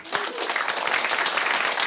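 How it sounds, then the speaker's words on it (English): Audience applause at a Python meetup talk, a brisk, even patter of many hands clapping that starts abruptly and stays steady and fairly close for the whole stretch. "A round of applause for Sandeep."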